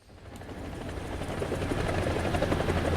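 Several UH-1 Huey helicopters in the War Thunder combat game, a steady, loud rotor and turbine drone that swells gradually and holds strong throughout, with no talking.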